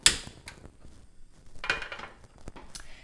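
Diced onion dropped into an oiled pan on a small home cooker, a sharp clatter and tumble of pieces followed by soft scraping and light knocks, close and fairly quiet.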